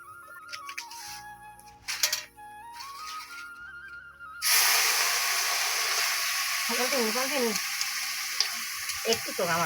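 Oil sizzling in a pan as garlic, chopped onion and black cumin go in, a loud dense hiss that starts abruptly midway after a stretch of tonal music, with a voice briefly talking over it.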